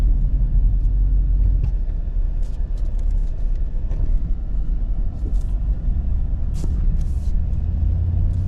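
A Ford 7.3-liter gas Super Duty Tremor pickup towing a heavy load, its engine and drivetrain rumbling steadily with a loud, continuous low drone as the torque converter unlocks and slips, with no talk over it.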